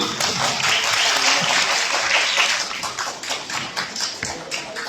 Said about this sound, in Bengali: একটু যদি জোরে হাততালি সবাই দেয় তাহলে ভালো লেগেছে জোরে হাততালি